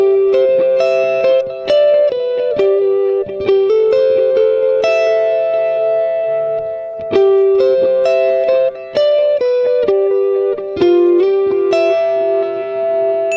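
An electric guitar plays a riff through a Line 6 POD Go on factory delay settings, clean picked notes and chords ringing with echoing repeats, loud and close with no talk.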